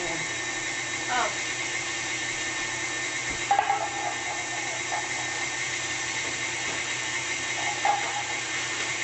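An oven being set to 250 degrees while baking fruit cakes, a few sparse mechanical clicks from the dial over a steady background hum.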